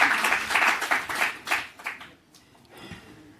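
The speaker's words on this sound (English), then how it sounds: "Can we give them a warm hand of applause?" Audience applause for a panel on AI and the climate and nature transition, a steady burst of clapping that fades out over the last second.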